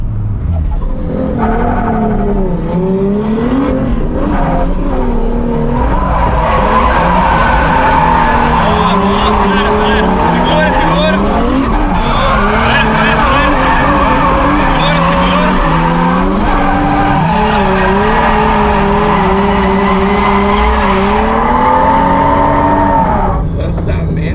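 A drift car on a practice track revs hard and slides, its engine roaring continuously as the tires squeal and skid at length, loud and close, with people's voices mixed underneath.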